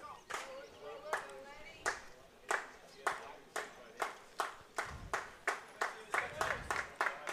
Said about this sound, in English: A little clapping going on by the Raider fan club.